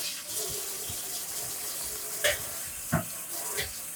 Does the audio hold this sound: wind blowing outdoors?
no